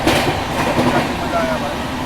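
Passing rush and clatter of an express train overtaking the Banaras Superfast at around 130 km/h, heard from aboard the New Delhi–Howrah Duronto Express; a steady loud roar with rail rattle, and people talk over it.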